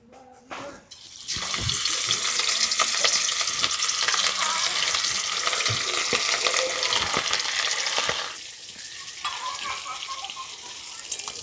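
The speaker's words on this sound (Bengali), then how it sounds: "মাছগুলো ভেজে নেব" Fish frying in hot mustard oil in a wok, a loud dense sizzle that bursts in after a second and holds steadily with occasional spatter pops, then eases slightly near the end.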